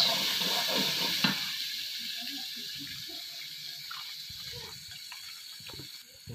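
Chopped onion goes into a hot pan for Bengali chicken kasa, giving a burst of bright frying sizzle that eases into a softer, steady hiss with faint clinks, close by and with no talking.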